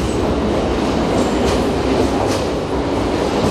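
A metro train rolls through a station on the Samara subway, giving a loud, continuous rumbling roar with faint clickety-clack from the wheels and no voices.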